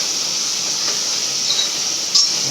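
Tomatoes sauté in a hot pan for a mutton curry, giving a steady close sizzling hiss with a small crackle near the end and no talking.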